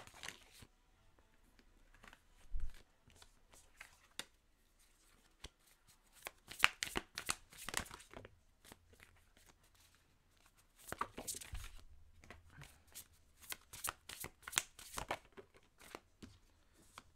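Tarot cards shuffled by hand during a two-choice reading, giving bursts of soft riffling and slipping card noise in irregular flurries, with quiet gaps between them.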